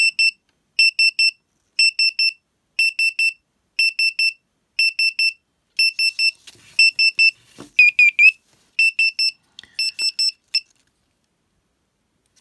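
An LCD 1602 DIY electronic clock kit on 5 V DC sounds its alarm: close, bright electronic beeps in quick clusters of three or four, repeating steadily about once a second, with faint handling noise in the middle.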